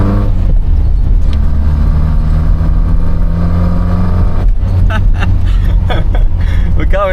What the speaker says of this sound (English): Here we go, ready, second gear.